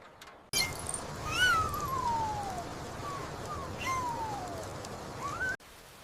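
A small kitten meows in several thin, rising and falling cries, fairly close and clear over a soft background hiss, with pauses between calls.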